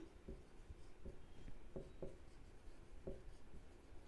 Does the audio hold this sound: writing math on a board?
yes